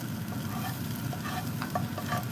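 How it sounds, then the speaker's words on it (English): Fried onions are scooped and scraped out of an oily pan onto a plate, giving short scraping and clinking strokes over a constant low sizzle, with no voices. "we're gonna transfer the onions to the plate"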